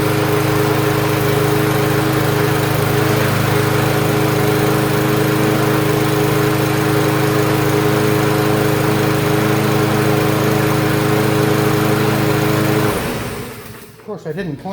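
A Yard Machines push lawn mower engine runs loud and close in a steady droning hum for most of the stretch, then cuts out abruptly near the end, leaving clattering handling noises.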